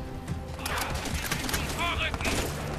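Rapid bursts of gunfire in the video game Crysis 3, a dense fusillade running steadily throughout at moderate loudness under game effects, with a voice talking over it.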